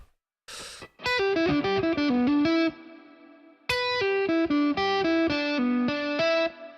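Distorted electric guitar with reverb and no delay plays a strummed chord phrase with reverb tails, pauses, then repeats the phrase, loud and close.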